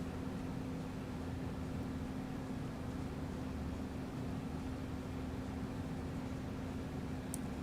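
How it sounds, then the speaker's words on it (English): Steady, continuous engine drone of a farm vehicle in Farming Simulator 25, a constant broadband hum with a sustained low tone running throughout, moderately loud and unbroken, with no speech. "So just listen to the music and the engine there"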